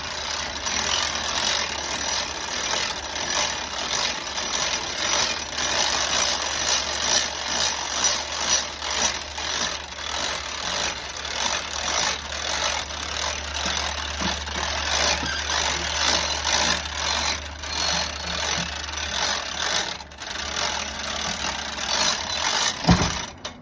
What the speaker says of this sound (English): there's 2 speeds on this winch. I got it set on the high speed